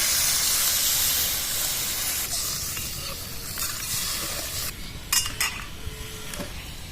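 Spice paste for a Bengali katla fish and poppy-seed curry sizzles and hisses steadily in a pan, with metal utensil scrapes and clinks from stirring, then a brief splash and bubbling as water goes in.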